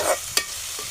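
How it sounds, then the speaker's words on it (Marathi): Onion sautéing over a low flame gives a steady soft sizzle, broken by a sharp scrape of a spoon stirring through the pan, close and alone without voices. "कांदा जरा परतून घेऊ मंद आचेवर"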